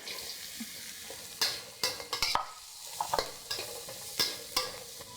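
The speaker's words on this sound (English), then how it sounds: "Stir it a little bit." Chilli and carrot stir-fried for nasi goreng, Indonesian fried rice: a soft background sizzle broken by a series of sharp, close spatula scrapes and knocks in an uneven rhythm.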